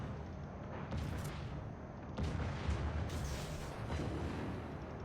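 Heavy naval guns firing from a warship in the game World of Warships, a few deep booms over a steady rumbling battle bed, with no voices.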